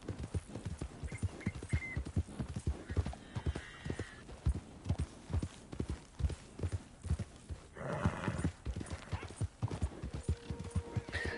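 Horse hooves clop rhythmically and steadily at close range in the Red Dead Redemption 2 video game, with a brief whinny and faint background sounds in between.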